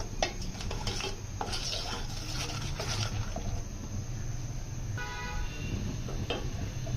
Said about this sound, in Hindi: इस तरह आपने चम्मच चलाते रहना, ये थिक होती जाएगी साथ साथ ही